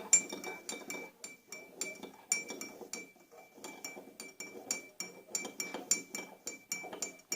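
A spoon stirs a salt solution in a glass container for a strawberry DNA extraction, making a steady run of quick, bright clinks against the glass, close and fairly quiet, with no talking.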